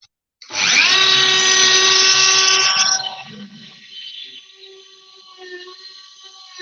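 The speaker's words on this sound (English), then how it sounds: "that is the Dremel bit, and I'm going to show you how I use it to carve that pumpkin" A Dremel rotary tool whines at a high, steady pitch for a few seconds, then winds down and spins lighter as it carves into a mini pumpkin, up close and without talk.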